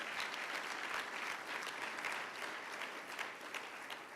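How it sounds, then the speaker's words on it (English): An audience at a business leaders forum gives senior staff a sustained round of applause, many hands clapping evenly at moderate volume with no speech over it. "So could you just give them a round of applause?"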